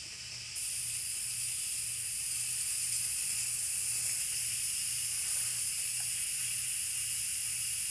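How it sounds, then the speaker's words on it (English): An Instant Pot pressure cooker vents steam in a controlled release, a loud, steady high hiss that starts abruptly and continues unbroken with a faint low hum beneath. "We are going to vent any remaining pressure."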